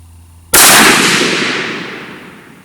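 A single sharp rifle shot from a .20 GPC during a velocity test with a chronograph, firing a Sierra 39 grain Blitz King bullet over CFE223 powder, loud and close, ringing out into a long decaying tail.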